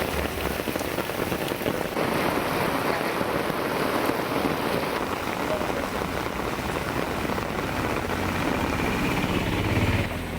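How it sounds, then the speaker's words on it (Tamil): Heavy rain pours down around Tiruchendur in a dense, steady hiss that continues unbroken, with a faint low engine-like hum underneath. "திருச்செந்தூர் சுற்றுவட்டார பகுதிகளில் கனமழை கொட்டி தீர்த்தது"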